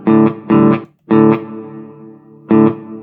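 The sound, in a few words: guitar through Sonicake pedal with reverb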